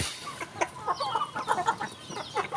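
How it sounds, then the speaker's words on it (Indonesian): An ayam ketawa, or laughing chicken, makes a run of short, rapid clucking, chattering calls, fairly faint and close, with no talking. "Ini kayak ayam ketawa ini."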